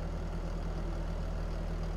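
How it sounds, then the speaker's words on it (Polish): A farm machine engine idles steadily in Farming Simulator 22, a continuous low mechanical hum with a constant rumbling tone and no voices. "To chyba muszę silnik włączyć."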